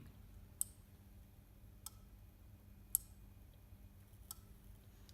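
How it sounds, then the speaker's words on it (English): Faint, sharp clicks at irregular intervals over a quiet background, a small Arduino-controlled relay switching on and off. "you might hear the sound of the relay clicking"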